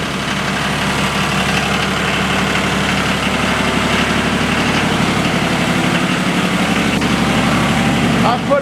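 A steam boiler engine, started with a jumper wire, runs at a steady, loud idle close by with a rhythmic knocking pulse throughout.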